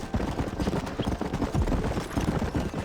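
Hooves pound in a quick, steady gallop as a horse runs in Red Dead Redemption, loud and close with a rolling rhythm throughout, no talking.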